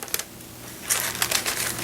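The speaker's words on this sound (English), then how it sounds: "My paper tore." Paper tearing while being slid off a Thanksgiving dessert, a short crinkling rip with scattered crackles, close and fairly quiet, with no one talking.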